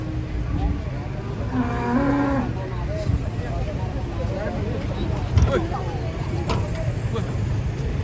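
A cow gives a low moo amid outdoor background noise and passing vehicle rumble, with people talking nearby.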